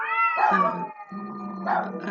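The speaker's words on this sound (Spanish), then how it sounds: "Están peleando los gatos." Two cats fighting indoors, trading drawn-out rising and falling yowls and caterwauls in two bursts with a brief gap, close and loud with no talk.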